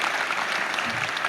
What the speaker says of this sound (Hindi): तालियां बहुत धीरे बजी है